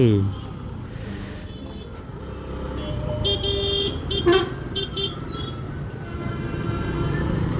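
Busy road traffic in Trichy rumbles steadily with a few horn toots cutting through, while someone talks over the din.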